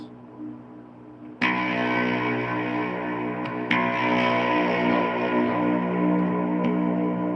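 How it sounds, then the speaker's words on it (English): A low-tuned electric guitar in drop B tuning rings out heavy sustained notes, struck twice and left to ring, thick and distorted. "we drop our 6th string down to B"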